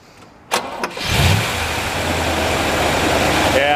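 A 1972 Chevrolet Corvette engine cranks with a couple of sharp turns, then catches and settles into a loud, steady idle, with a voice briefly audible at the start.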